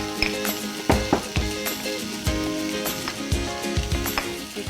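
Spices frying in a pan for Uzbek plov, a steady close sizzle broken by repeated sharp clinks and scrapes of a utensil against the cookware.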